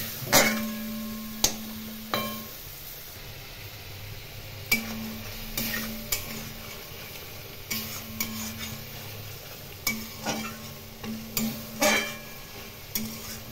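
Spice masala for Bengali pabda fish jhal being stirred in a pan on a medium flame with a little water, giving a run of scraping spatula strokes and clinks with a soft sizzle underneath, close and fairly quiet.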